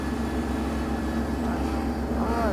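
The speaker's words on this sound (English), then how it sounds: "Why is there a flipping tractor in the shot?" A tractor engine runs on a country road near an outdoor film set, a steady low rumbling drone with a faint tonal hum, moderately close and heard without talk.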